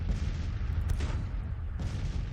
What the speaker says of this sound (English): We're losing the artillery duel over there.